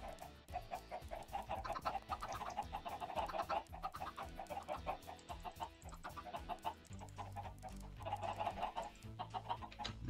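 Chickens clucking in the video game Sky Odyssey, a busy run of repeated clucks and short calls over several seconds, moderately close, with low background game tones and no voices.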